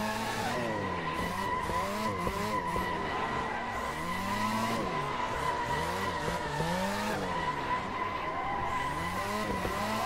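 Tires squeal and skid in long wavering bursts as a drift car slides and spins out in Assetto Corsa, with engine roar underneath and no talking.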